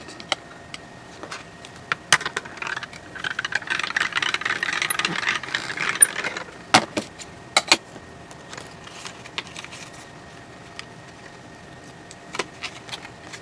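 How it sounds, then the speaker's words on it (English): A small die cutting machine pulling black cardstock held with low-tack tape, producing a close mechanical rattle and whir with scattered sharp clicks, busiest in the middle and tapering to sparse ticks. "run this through the my tiny die cutting machine"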